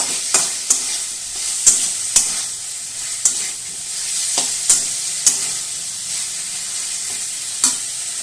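Dhokar dalna masala stirred in a pan over a soft sizzle, with a spoon striking the pan in repeated sharp, irregular scrapes and taps, close and clear.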